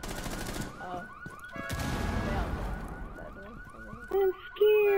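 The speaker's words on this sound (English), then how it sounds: "Somebody's car alarm is going off." Car alarm wailing through a tense Rainbow Six Siege match, its cycling electronic whoops and tones repeating steadily over bursts of gunfire and game noise, loud and close, with a shriller tone pulsing near the end.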